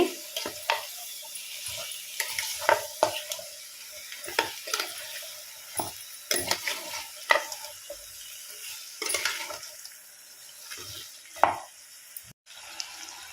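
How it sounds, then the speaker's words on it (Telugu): Country chicken curry is stirred in a pan over a gas flame, a steady sizzle under repeated scraping clinks of a spoon against the metal, close and fairly quiet with no talk. "గ్యాస్ సిమ్లో కానీ మీడియం ఫ్లేమ్లో కానీ పెట్టుకొని కలుపుకోండి."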